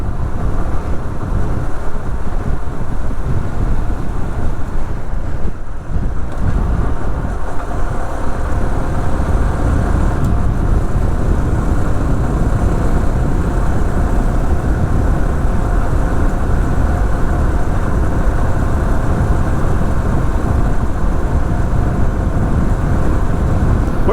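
Honda Super Cub motorcycle on a morning commute ride, a steady loud engine drone with heavy wind rush buffeting the microphone throughout, continuous and unbroken with no talking.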